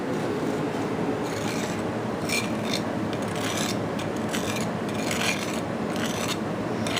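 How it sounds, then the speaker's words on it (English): Dried sugar is scraped out of a sugar egg mold, a continuous close rasping scrape with repeated strokes, steady and alone without talk. "So you want to start scraping out the sugar."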